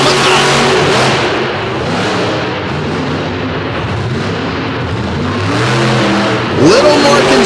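The Team Throttle Monster Kamikaze monster truck, Utah-based, roars loud and close during a qualifying run at a stadium show, its engine surging and revving continuously under an announcer's voice.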